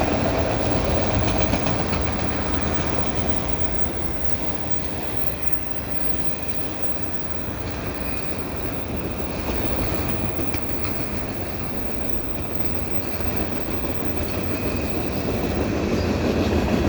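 A long Canadian Pacific freight train hauling a line of auto racks rolls past close by in a steady, dense rumble with rail clatter and faint wheel squeal, continuous for the whole stretch.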